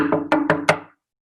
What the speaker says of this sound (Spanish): fue nuevamente a casa de la señorita Cerda y golpeó la puerta